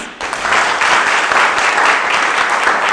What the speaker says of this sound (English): Beautiful. Give a round of applause.